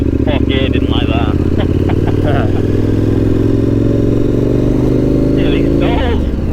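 A KTM or Honda trail motorcycle engine droning steadily up close, lugging low and labouring after a gear change as if nearly stalling, with a rider talking over it in places.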